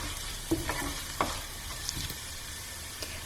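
Coriander, turmeric and chili powder fry in a pot while being stirred, giving a steady close sizzle with a few light scrapes and taps of the spoon.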